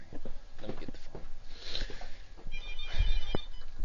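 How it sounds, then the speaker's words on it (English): A telephone rings indoors with a brief electronic trill near the end, faint and close, over rustling and soft room noise. "Oh, the phone's ringing."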